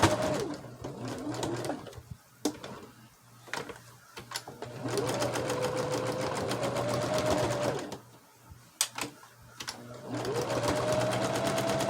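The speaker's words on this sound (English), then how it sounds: "Now it's stitching again, so we're in good shape." A sewing machine stitches quilt blocks in loud, close bursts of rapid mechanical whirring, separated by short pauses and a few clicks.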